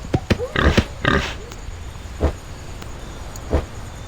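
Several short, sharp grunts and snorts from a pig in the video game Mr. Meat, clustered at first and then spaced out, close and fairly loud over a faint background hum.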